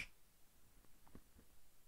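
One crisp finger snap pops at the very start, followed by a few faint, soft knocks and muffled clicks in a quiet room.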